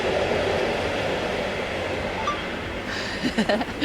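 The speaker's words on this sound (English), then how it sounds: "Wow, that is like a mega long train." A long, steady rumble of a train rolling past, continuous and fairly loud, ending with a few rattling clanks near the close.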